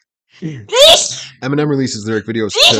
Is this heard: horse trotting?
no